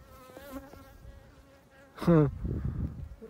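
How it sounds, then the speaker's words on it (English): A bee buzzes close by, its drone rising sharply and growing loud for a moment before settling into a steady hum. "I'm getting buzzed by a bee. You can hear it."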